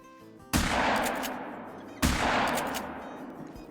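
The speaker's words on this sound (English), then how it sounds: "That is our first TruMULE down with the shotgun." Two loud shotgun blasts fired at a mule deer in a hunting video game, about one and a half seconds apart, each a sharp close crack trailing off into a long rolling echo, with no talk.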